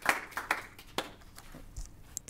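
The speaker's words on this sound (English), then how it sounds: "a small round of applause." Sparse, quiet clapping from a small audience after a science talk: a few separate claps that fade quickly into near silence.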